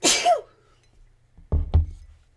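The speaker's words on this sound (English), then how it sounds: "I just seem to have the sneezes today." A woman sneezes once, a sharp burst at the start, then follows with a couple of short, lower coughing or sneezing bursts after a brief pause, close and alone.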